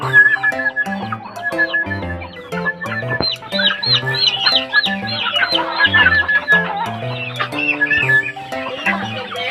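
Native backyard chickens cluck and crow continuously, with several birds overlapping in busy, fairly close calls and no talking.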